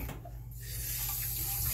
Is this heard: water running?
yes